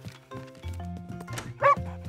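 A cartoon dog in a Polish children's animated episode gives a short yapping bark near the end, heard over light background music and sound effects.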